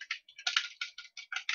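Rapid typing on a computer keyboard, a close, quiet run of crisp key clicks in uneven bursts with short gaps, alone with no voices.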